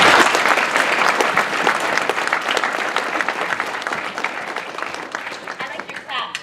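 Audience applause at a convention voice-actor panel, a dense, steady wash of many hands clapping that stays loud throughout and tapers slightly near the end, with faint voices mixed in.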